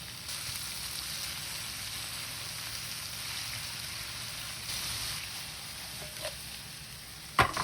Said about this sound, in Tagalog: Sunod naman ilagay ang kamatis. Saute for a minute.